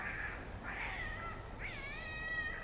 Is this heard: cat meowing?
yes